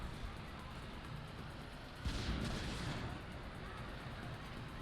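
Explosive heavy machine gun and missile fire in the video game Prototype, a dull rumbling burst of blasts lasting about a second, rising out of a constant noisy game background, with no speech.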